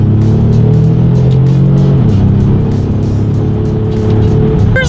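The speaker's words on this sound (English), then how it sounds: "So let's test out the paddle shifters and see how quickly they react for us." Cabin sound of a 2019 Ford Explorer with a twin-turbo V6 accelerating hard, a loud steady engine drone whose pitch drops sharply at a paddle-shifted upshift, then climbs again.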